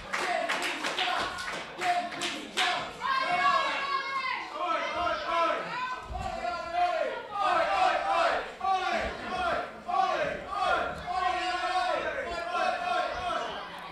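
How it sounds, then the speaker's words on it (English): A live wrestling crowd at a Wrestleforce show in Loughton cheers and chants for Oli Peace, with rhythmic clapping, stomps and shouted voices filling the hall steadily throughout. "Crowd firmly behind Ollie Peace."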